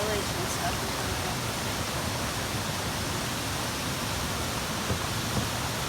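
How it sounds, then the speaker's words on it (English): A waterfall in the Canadian wilderness roars as a dense, steady hiss of falling water that stays constant and fairly close. No other sound stands out. "There's your waterfall."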